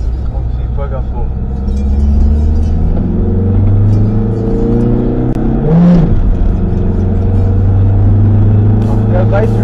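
A driving-school car's engine is taken to full throttle, a loud rumbling drone that climbs and swells in pitch as it revs, with people talking over it.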